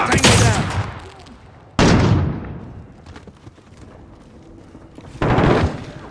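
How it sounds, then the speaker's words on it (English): Gunfire in Call of Duty: Modern Warfare, with three loud, close bursts of shots, each decaying into a rumbling tail, separated by quieter stretches. "I'm taking fire."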